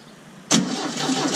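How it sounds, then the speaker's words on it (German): The engine of a Volkswagen T1 starts, with a short crank that catches abruptly into a close, steady running idle after a near-silent pause. "so und jetzt mit wenig Gas starten."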